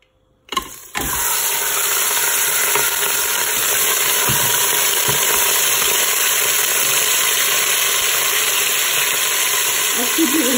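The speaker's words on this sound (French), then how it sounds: "Ensuite, je vais ajouter ma viande." Meat hitting hot oil in a Cookeo for a meat gombo: a sudden burst followed by a loud, even, continuous sizzle that holds steady throughout.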